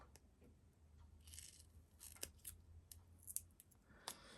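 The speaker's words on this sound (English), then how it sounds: "My scissors need cleaning." Quiet snips of scissors cutting, a few short crisp clicks spaced irregularly over a faint background hum.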